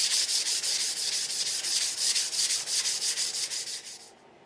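Rusty steel framing square being sanded by hand with 300 grit sandpaper: a steady, close scratchy rasp in quick back-and-forth strokes that fades out at the end, with no talk.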